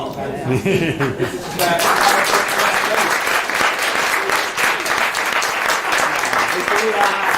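Audience applause at a Future 2024 insights and intelligence event, starting with some chuckling and murmur before breaking into sustained, dense clapping from a large crowd that stays loud to the end.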